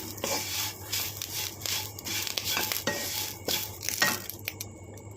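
Curry leaves lightly frying in a pan, a soft continuous sizzle with stirring scrapes and clinks of a utensil against the pan, close and steady throughout.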